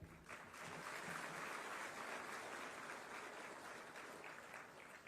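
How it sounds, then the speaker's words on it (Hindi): An audience at a government appointment ceremony claps continuously for several seconds, a dense, even wash of applause heard from a distance and faintly. "आप सब शुभकामनाएं हेतु तालियां बजाएं"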